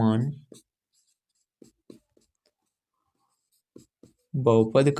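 Chalk or marker writing on a board during a Class 10 maths lesson: a few faint, sparse taps and strokes, with a teacher speaking at the start and end.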